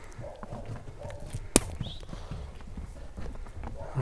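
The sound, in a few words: horse walking, hooves clip-clopping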